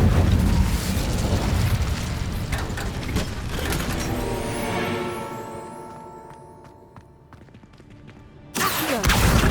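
A fire spell cast in the video game Hogwarts Legacy, heard as a loud rumbling, mechanical whoosh and blast that swells, fades over several seconds, then bursts back in abruptly at full strength.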